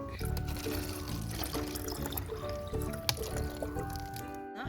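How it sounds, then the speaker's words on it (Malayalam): Water is poured close by for a homemade orange peel fertilizer, making a steady liquid pour and trickle with a few drips across the few seconds, with no talking. "നമുക്ക് കുറച്ച് വെള്ളം കൂടി ഒഴിച്ചു കൊടുക്കാം"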